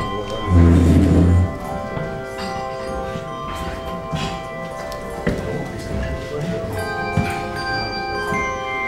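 Handbells ring at a funeral, one low sustained bell tone up front followed by fainter overlapping chimes and rings over soft room murmur and rustling.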